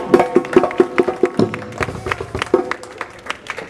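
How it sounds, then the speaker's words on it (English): Audience clapping at a 2018 festival speech, a burst of quick rhythmic claps in a crowd that fades into scattered, softer claps within a few seconds. "Y'all clap for them now."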